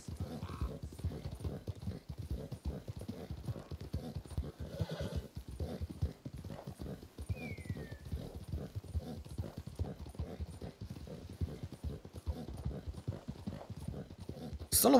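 Horse hooves clip-clop at a steady trotting rhythm in Red Dead Redemption 2, with a whinny breaking through and faint ambient game sound underneath.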